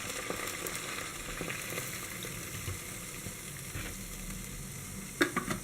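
Milk hisses and sizzles after being poured into a hot frying pan, a moderate steady sizzle with a few sharper crackles toward the end and no talking.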